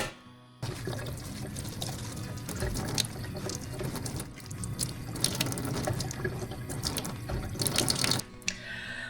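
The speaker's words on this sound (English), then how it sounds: "then I'll start washing my spinach" Fresh spinach is washed under a running kitchen tap, with steady splashing water, shifting as leaves are moved and rinsed, and an abrupt start when the flow begins; close and fairly clear.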